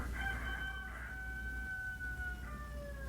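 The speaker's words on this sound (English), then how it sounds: "All those roosters." Roosters crowing, several long drawn-out calls overlapping at moderate distance over low background noise, with no one talking.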